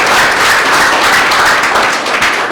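Loud, dense applause from a Brahma Kumaris Guru Purnima gathering in Bhusawal, a steady close wash of clapping hands filling the whole stretch with no voices.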